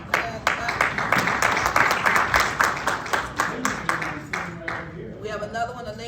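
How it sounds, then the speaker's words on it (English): Applause for a Marine veteran at a district council meeting, a brisk round of clapping from a room of people that fades away near the end, with talking mixed in. "Give the man a grand clap."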